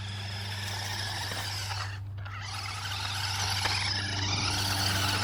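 A small toy RC crawler desert buggy spins donuts on wet pavement scattered with leaves, giving a steady whirring motor drone with a continuous hiss of tires on the damp surface, fairly close and even, with no talking.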